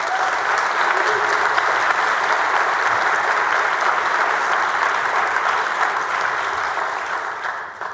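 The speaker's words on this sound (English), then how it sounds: "Let's give them a round of applause." Sustained applause from the audience in the Texas Senate chamber honoring Senate staff, a dense steady roar of clapping that holds for several seconds before starting to fade.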